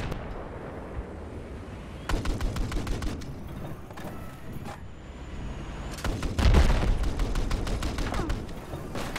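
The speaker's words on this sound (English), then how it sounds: "The 30mm cannon coming in" Rapid bursts of 30mm cannon fire in a naval battle video game come in several volleys. Heavier booming impacts land near the end, with no voices.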